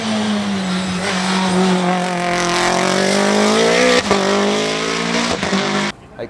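A tuned race car in the 2018 Attack Tsukuba time-attack event howls loud and close at Tsukuba Circuit, its engine pitch sweeping down as it drops one or two gears into the final corner, with sharp blips near the end before the sound cuts off.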